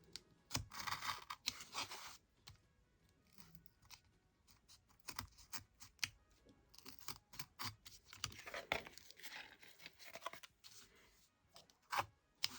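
Cardboard box being cut by hand to make a square hole for a gingerbread house, heard as close, irregular bursts of scraping and tearing with short pauses, no talking.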